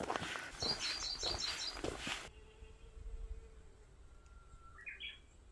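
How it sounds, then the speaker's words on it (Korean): Birds sing along a Jirisan mountain trail: a cluster of quick high chirps comes first, then a hushed stretch, then a brief rising call further off. "새소리 너무 좋다"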